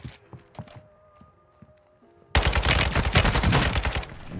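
Sustained automatic gunfire in a video game shootout, a dense rapid burst of shots erupting suddenly after quieter scattered sounds and continuing loud and close to the end.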